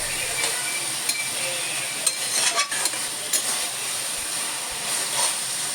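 Cabbage being stirred in a frying pan gives scraping spatula strokes and clicks over a soft sizzle, with a brief stretch of rustling in the middle.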